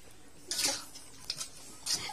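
A utensil stirs chicken in oyster sauce in a pan, giving a few separate scraping and clinking strokes against the metal over a quiet kitchen background.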